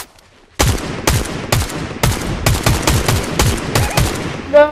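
Rapid bursts of automatic gunfire from a video game weapon, a loud fast string of sharp shots after a brief quiet start, with a short tonal effect at the end.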